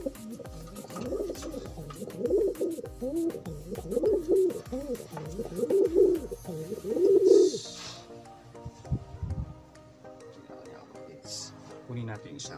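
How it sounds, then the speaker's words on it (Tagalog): Blue check pigeons cooing close by in repeated rolling coos, with a person talking over them throughout. "Siya kalapatids. Ito na yung ano natin kalapatids. Blue check."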